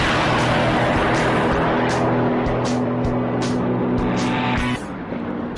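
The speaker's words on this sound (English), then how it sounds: "when you really hammer it, it starts to sound like a proper muscle car." Chevrolet Corvette engine under hard acceleration, a loud, close muscle-car roar rising in pitch through the revs, with a brief gear-change dip before easing off at the end.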